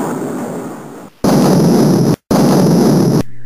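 A missile strike explodes on a radar station, a loud sustained roaring blast that cuts out and returns, then a brief gap before a second long rumbling burst.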